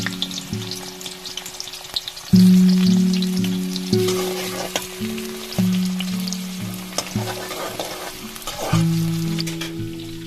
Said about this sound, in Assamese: এতিয়া ইয়াত আমি গোটেইখিনি পিয়াজ দি পেলাই ভালদৰে ভাজি ল'ম